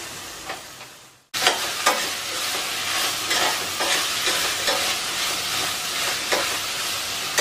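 Chopped tomatoes hit a hot pan of masala rice base and fry with a loud, continuous sizzle and hiss, broken by scraping stirs, after a quieter first second.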